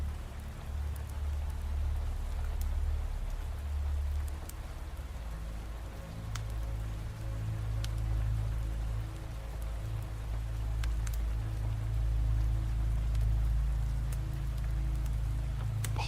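Rain falls steadily on surfaces, making a constant hiss with a deep low rumble underneath and scattered sharp drips, continuing unbroken with no voices.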